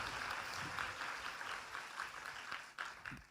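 A church congregation claps hands in praise with steady, rhythmic, continuous applause filling the room.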